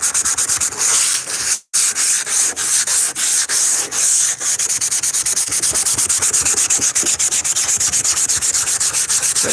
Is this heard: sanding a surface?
yes